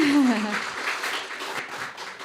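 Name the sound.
audience applause at event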